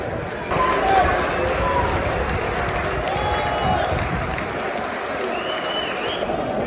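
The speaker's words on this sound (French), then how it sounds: "les gens sont venus applaudir" A football crowd applauds at Leyton Orient's stadium after a League One match, with sustained, even clapping from many hands and a little cheering, filling the whole stretch.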